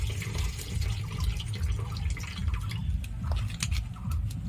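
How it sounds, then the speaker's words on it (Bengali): Running water splashing steadily as fish are rinsed in a kitchen, a continuous close wash with small drips and sloshes throughout. "এটা আমি ভালো করে জল দিয়ে ধুয়ে নিলাম।"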